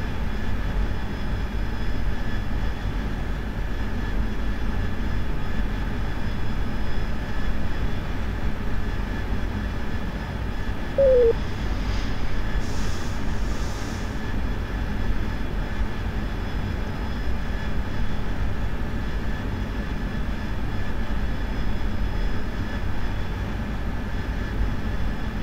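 Jet engine of an aircraft in a flight simulator game, climbing during a night bombing run, a steady broadband roar that holds evenly throughout with no talking.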